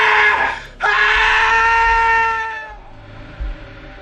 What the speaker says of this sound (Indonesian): langsung berteriak karena ketakutan